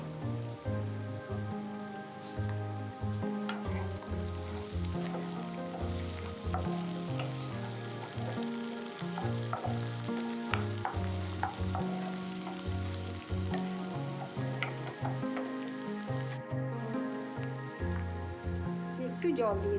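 Masala for Bengali dahi fish sizzles steadily in a pan. Soft, rhythmic knocks of stirring repeat throughout, with the frying close and continuous.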